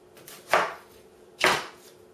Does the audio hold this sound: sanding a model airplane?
no